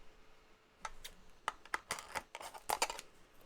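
Scissors snipping open a Pokemon card pack, a run of quiet close crisp cuts and rustles, about eight short irregular snips in quick succession with no talk.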